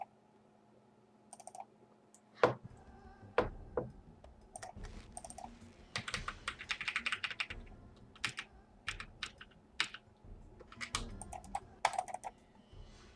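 Keypad keys pressed to change the game speed in Fallout 2: a run of sharp, separate key clicks and taps, some in quick bursts, close and fairly loud, with no talking.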